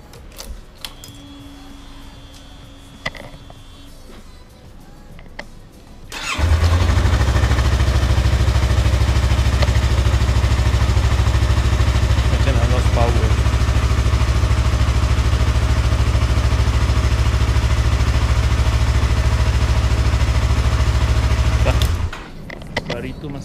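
A Yamaha R25 motorcycle engine idles close by, a loud, steady low rumble that starts abruptly after a few seconds of quiet talk and runs without a break before cutting out near the end.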